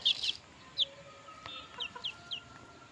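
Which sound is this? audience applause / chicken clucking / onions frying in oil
chicken clucking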